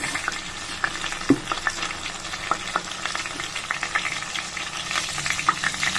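Mustard seeds and curry leaves frying in hot oil in a pan give a steady sizzle with scattered sharp crackles and pops, plus a louder utensil clink near the middle.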